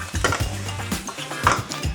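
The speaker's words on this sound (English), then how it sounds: "So again, stir everything together." Sambal prawns stirred in a pan, quick clinks and scrapes of a utensil against metal with a light sizzle, close and busy for a couple of seconds.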